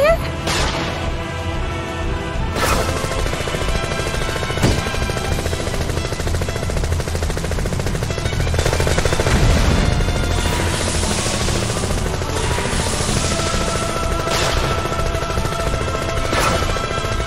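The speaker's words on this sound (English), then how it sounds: "You hear that? Gunfire?" Bursts of gunfire crack amid a loud, dense mix of rumbling engines and explosions in Final Fantasy VII, with occasional voices under the noise.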